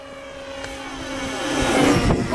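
A small scratch-built RC plane's propeller engine with a thrust plate whines steadily with a sharp tonal hum, swelling louder as it draws nearer.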